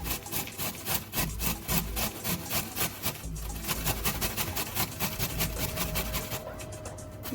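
Lemon peel rubbed against a grater in quick, even back-and-forth strokes, close and rasping, with a short pause partway through.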